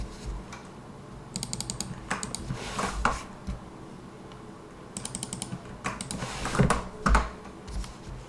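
A password is typed on a computer keyboard at a Linux Ubuntu terminal: two quick bursts of close, clicky keystrokes separated by a short pause, over a quiet room.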